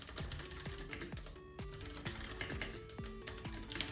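Rapid typing on a computer keyboard during coding work, a dense, continuous run of close, crisp key clicks with no talking.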